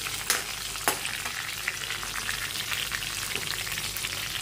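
Chopped garlic frying in hot oil with neem leaves in a pan for soya chaap gives a steady, close sizzle with a few sharp crackles and pops near the start, no talking.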